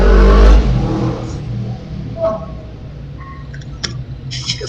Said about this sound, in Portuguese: tá um barulho de caminhão aqui na minha...